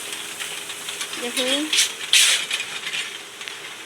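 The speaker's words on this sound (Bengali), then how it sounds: "দেখুন চলছে আমাদের মুড়ি ভাজা" A puffed rice roasting machine runs with a steady mechanical rattle and hiss, with a few louder clanks in the middle and a brief spoken word over it.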